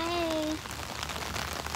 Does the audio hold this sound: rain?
yes